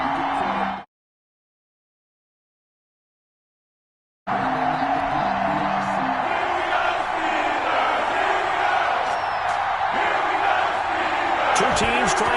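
Stadium crowd noise in an NFL video game, Jacksonville Jaguars against the Pittsburgh Steelers: a continuous loud roar of cheering fans after a brief silent gap, with a commentator's voice over it.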